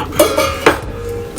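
A heavy stand mixer's mixing bowl is lifted out of the base, giving a couple of short metallic clunks and scrapes close by, with a few lighter clinks after.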